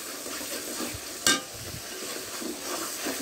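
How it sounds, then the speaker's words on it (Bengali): Vegetables sautéed and stirred in a pan with salt and green chillies make a soft, continuous sizzle with light scraping and one sharp clink of a utensil against the pan. "একটু ভালোভাবে এটা কষিয়ে নিতে হবে।"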